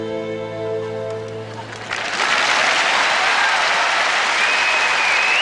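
Sustained applause from a large crowd at the 1998 Nagano Winter Olympics pairs figure skating short program swells in after a brief musical passage, filling the arena with dense, continuous clapping.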